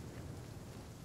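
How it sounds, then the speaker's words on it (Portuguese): Rain in the survival video game The Flame in the Flood falls as a steady, even hiss with a low rumbling bed, quiet and continuous with no voices. "Olha a chuva."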